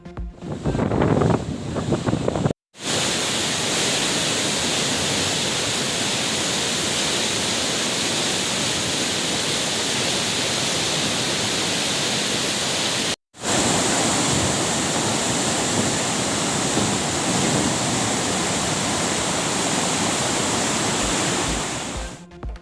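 Floodwater surges down the wide Cauvery river below the Mayanur barrage, released at around 60,000 cubic feet per second, a loud, steady roar of rushing water that fills the whole clip with only two brief cuts.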